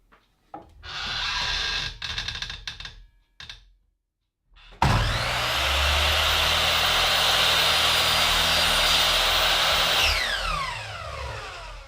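Power saw cutting a wooden rail piece for a picket bench, short bursts of whirring at first, then after a pause a long, loud, steady buzzing cut that winds down at the end.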